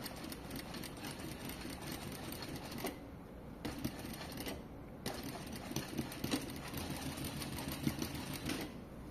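A sewing machine runs a seam, attaching an invisible zipper to a skirt, a fast steady mechanical stitching rattle, close and clear. Brief pauses and restarts break up the stitching.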